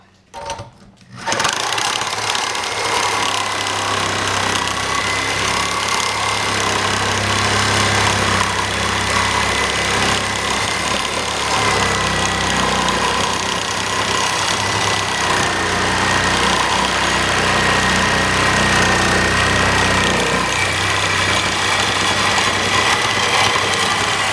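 A reciprocating saw with a bi-metal or carbide-type blade cuts through tough material with a loud, continuous high-pitched buzzing rasp that runs steadily for over twenty seconds after a brief startup, close by, with no talking.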